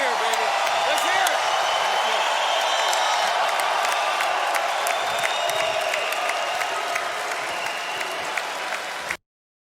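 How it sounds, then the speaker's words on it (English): A large crowd cheers and applauds at the 2025 NFL Draft, a dense, sustained roar heard from a distance that cuts off abruptly at the end, with voices mixed in. "Let them give him a cheer, baby."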